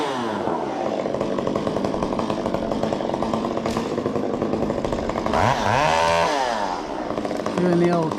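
Chainsaw cutting a small tree during rigging on a trail, a loud close engine drone that revs and bogs as it bites, with rising and falling pitch sweeps near the end.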